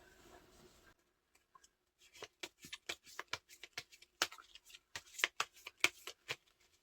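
Tarot cards shuffled and drawn by hand, a run of crisp, close riffling snaps and flicks in an uneven rhythm after a quiet start, with no talk over them.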